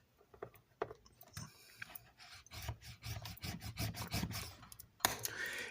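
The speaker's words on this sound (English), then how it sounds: "grab our bone folder, going to score at 1 inch" Bone folder drawn across cardstock to score a crease, a quiet scraping rub with a few light taps, heard alone at close range.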